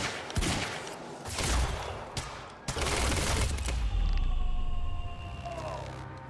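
Gunfire in the video game Quantum Break comes as several loud, dense bursts of shots over constant noisy action, with a whining mechanical tone rising near the end.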